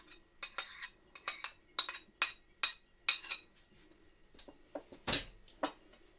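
Minced meat, liver, crackers and fried onion being mixed together in a bowl for a liver and meat pâté, heard as a close, irregular series of sharp utensil clinks and scrapes against the bowl, with no talking.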